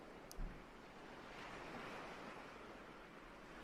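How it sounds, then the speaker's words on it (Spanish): Sea waves wash gently onto a sandy beach, a soft, faint, continuous surge that swells slightly in the middle, with a brief knock near the start and no voices. "al compás del sonido de las olas"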